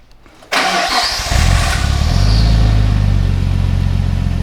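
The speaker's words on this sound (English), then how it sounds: "This is a start on the Nismo exhaust." Nissan Skyline R34 GTT with an RB25 engine and Nismo exhaust fired up close: a brief cranking whir, then the engine catches and settles into a loud, steady, deep idle rumble.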